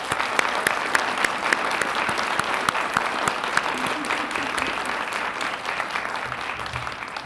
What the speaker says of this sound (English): can you go ahead and help me give them another round of applause